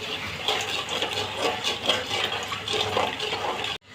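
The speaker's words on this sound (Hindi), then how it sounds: "अब यहाँ पे मैं मेथी दाना डालूंगी, ये क्रैकल हो जाएगा" Fenugreek seeds hit hot oil and set off a dense, steady sizzle with scattered crackles that lasts the whole stretch, then cuts off abruptly at the end, with no talk.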